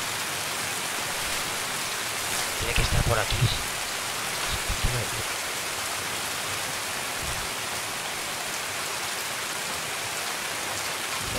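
Dense rain pours steadily over the Shoreline map in Escape from Tarkov, an unbroken broadband hiss, with a brief spoken remark and a few muffled thuds near the start.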